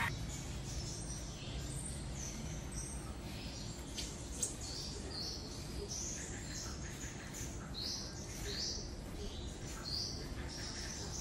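Fire-breasted sunbird calls in thin, high chirps and tweets, repeated steadily over a constant hum of background noise, fairly faint and with no one speaking.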